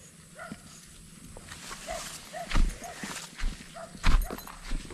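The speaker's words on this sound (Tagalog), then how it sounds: "May tumatahol na" A dog barks somewhere along a rural roadside near houses, several faint, distant yelps scattered over low background noise with a few louder thumps nearby.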